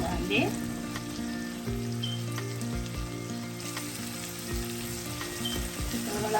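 Ingredients for a Sri Lankan-style chicken liver fry sauté in a pan, a loud, continuous close sizzle with occasional light knocks of a utensil, no voices.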